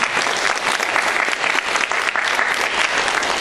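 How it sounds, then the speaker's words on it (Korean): A church congregation applauds in thanks on its fifth founding anniversary: dense, steady clapping from many hands filling the room, loud and unbroken from start to end. "우리 하나님께 감사의 영광의 박수 한번 올려드리겠습니다"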